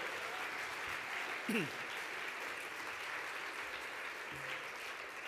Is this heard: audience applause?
yes